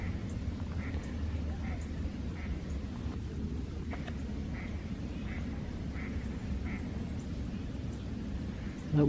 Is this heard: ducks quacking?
yes